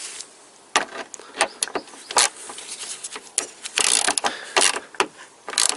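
A wrench ratchets in quick irregular bursts of sharp clicks, close and fairly loud, while giving the final tightening to a fitting on a Toyota Camry washer fluid tank.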